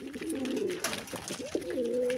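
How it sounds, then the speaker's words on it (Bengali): A pigeon on a farm gives two low, close cooing phrases with a short pause between them, at a soft level with faint background noise. "এই যে এই কবুতরটা"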